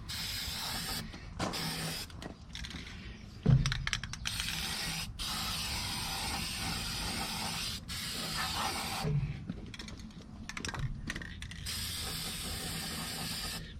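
Spray paint hisses from an aerosol can onto a replacement exhaust elbow for a 2007 Freightliner Columbia truck, in repeated bursts with short pauses and occasional can rattles, close and steady.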